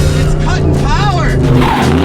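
A fake Hoonicorn-style Mustang's engine roars loud and steady nearby, with tire noise and excited voices talking over it throughout.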